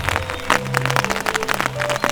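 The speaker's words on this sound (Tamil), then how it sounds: "மழை ரொம்ப பெருசாக பெய்துச்சு." Heavy rain pours in a dense, hissing wash with scattered splashy drops, steady and loud throughout, mixed with soft sustained background music.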